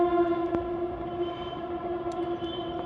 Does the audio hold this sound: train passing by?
yes